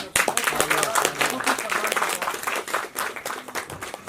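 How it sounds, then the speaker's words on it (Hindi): Audience clapping at an award ceremony for a Hindi music album, a burst of scattered applause that rises at the start and carries on steadily before gradually thinning. "मंच है। तालियां।"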